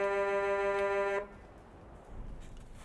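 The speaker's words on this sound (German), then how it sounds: "dann die Hupe" A DAF 95 truck horn in Euro Truck Simulator 2 gives one loud, steady harmonic blast lasting about a second before cutting off abruptly, leaving only quiet cab ambience behind.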